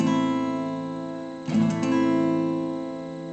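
A minor chord on an acoustic guitar for beginners, a sustained ringing chord with a brief scrape or restrum midway, moderately quiet and close, no voices.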